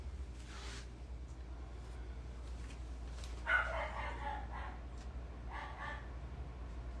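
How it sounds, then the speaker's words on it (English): Dogs yip and bark a few times from another room, muffled and fairly faint over a steady low hum. "You can hear my dogs."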